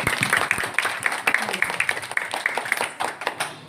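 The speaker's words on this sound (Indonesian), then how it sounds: "Untuk itu Bunda tepuk tangan dulu semua." Group at a religious gathering clapping in a quick, rhythmic, fairly close pattern of distinct claps for several seconds.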